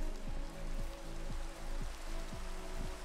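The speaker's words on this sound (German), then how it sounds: "Ja, weil es jetzt regnet." Rain falls steadily in the Minecraft video game, a continuous hiss of rain on surfaces under repeating low, rhythmic game sounds, with no one talking.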